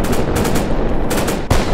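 Rapid automatic gunfire from a sandbox war video game, a loud continuous burst of shots with no pauses across its short length.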